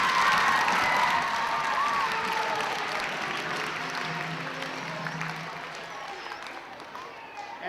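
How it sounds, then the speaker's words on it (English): A school pep rally crowd of children and adults applauds teachers at an elementary school, loud sustained clapping with cheers and children's shouts that slowly fade, with some speech underneath. "Let's give them one last big round of applause."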